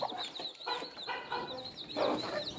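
A village hen clucks repeatedly nearby in short bursts, with other faint bird chatter around it and no talking.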